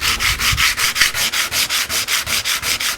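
Close hand sanding of a carved wooden coastal relief background with 120 grit sandpaper along the grain. About fourteen even, rhythmic rasping strokes scrub back and forth, loud and alone.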